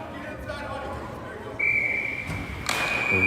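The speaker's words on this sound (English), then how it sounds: "we got a whistle" A sharp referee's whistle blasts mid-clip and holds, rising again near the end, over crowd noise and thumps at a youth ice hockey game in an arena.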